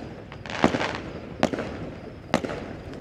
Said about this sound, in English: We got some fireworks going.